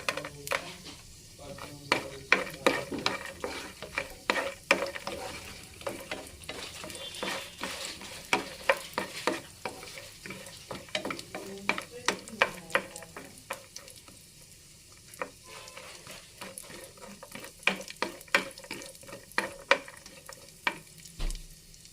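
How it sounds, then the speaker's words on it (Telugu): Raisins and dry fruits frying in a pan for sesame-peanut laddu, with a continuous low sizzle broken by frequent sharp scraping and clinking strokes of a spoon against the pan, no talking. "ఇవి కొంచెం వేగాక అందులోకి ఎండుద్రాక్ష కూడా వేసుకొని వేయించుకోవాలి"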